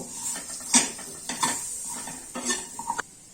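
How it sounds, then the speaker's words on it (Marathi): Drumstick pods are stirred in a pan, with several clattering scrapes of a metal spoon against the pan over a light sizzle, close by, in short separate bursts. "हे बघा आपण शेंगा एक जीव चांगल्या हलवून घेऊया"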